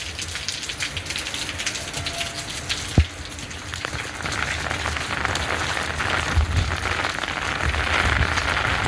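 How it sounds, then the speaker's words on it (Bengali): Heavy rain from Cyclone Dana falling on a rooftop in suburban north Kolkata, soaking rooftop plants: a dense, continuous hiss of drops, loud and close, with one sharp knock early on and slightly intensifying toward the end. "দেখো সকাল থেকে কি প্রচণ্ড বৃষ্টি হচ্ছে এখানে"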